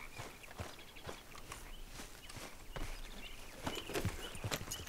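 Horse hooves clip-clopping at a walk in Red Dead Redemption 2, a steady rhythm of close, moderately quiet hoof falls over faint ambient outdoor noise.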